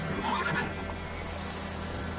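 Roach, a horse in the video game The Witcher 3, gives a loud, close whinny lasting a couple of seconds, with faint hoof clip-clops underneath.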